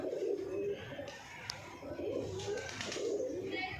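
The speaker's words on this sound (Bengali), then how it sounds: "এই দেখো 1-2টা পায়রা আছে।" Pigeons cooing in steady, rolling low coos that repeat through the whole stretch, fairly close and clear, with faint background noise and no voices.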